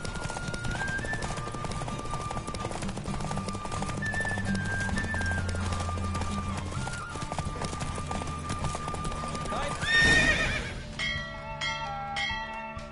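Steady rhythmic hoofbeats of a galloping horse with game music and chimes over it, ending in a bright bell-like flourish.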